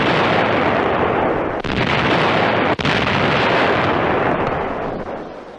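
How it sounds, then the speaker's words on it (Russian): Explosions roar as a retreating army blows up bridges and river crossings ahead of the advancing German forces in a wartime newsreel, a sustained, loud, rumbling blast that fills the whole stretch with brief dips. "При приближении немецкой армии враг взрывает мосты и переправы."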